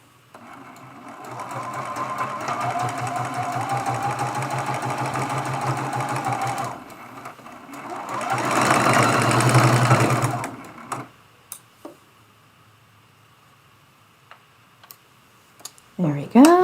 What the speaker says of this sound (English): and bring that to the sewing machine.